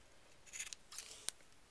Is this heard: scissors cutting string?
yes